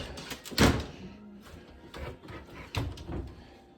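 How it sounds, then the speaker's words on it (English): Double closet doors in a house are opened, giving a few soft wooden knocks and a brief sliding rattle, close by and fairly quiet, with no talking. "Double door closet here."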